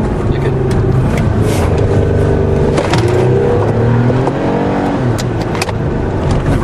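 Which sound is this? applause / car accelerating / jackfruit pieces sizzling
car accelerating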